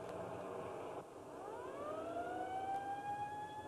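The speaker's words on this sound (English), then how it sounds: "It's the ambulance heading out now." An ambulance siren rises and wails steadily, sounding somewhat distant and fairly quiet over low background rumble.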